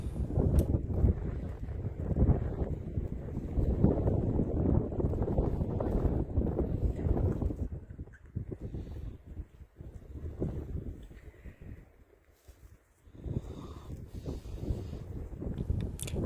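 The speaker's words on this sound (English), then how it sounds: "Nothing like hiking 5 miles through the snow with an oncoming snow squall" Gusty wind roars steadily across the open microphone during a five-mile snow hike on the North Country Trail beside a lake as a snow squall moves in, easing briefly near the end before surging again.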